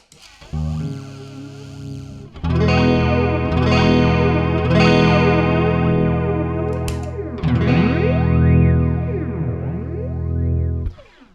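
An electric guitar rings out through a modulated delay, notes repeating and swirling with pitch-warping echoes that sweep up and down, loud and sustained.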